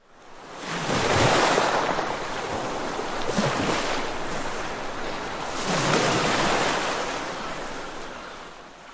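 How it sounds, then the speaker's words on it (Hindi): Ocean waves crash on a shore in slow, broad surges that swell and recede twice, a steady washing roar with no voices. "मैं तट पर टकराती हुई लहरों की धीमी आवाज़ और दूर से सीगल की चीख सुनकर जाग गया।"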